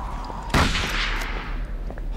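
A single sharp gunshot cracks out in the video game Call of Cthulhu, one loud report with a short ringing tail over low background hum.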